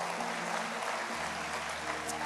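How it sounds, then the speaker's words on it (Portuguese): A church congregation applauding during a service, a steady wash of clapping across the room alongside sustained organ or keyboard tones. "Dê um aplauso ao Senhor, coloque-se de pé."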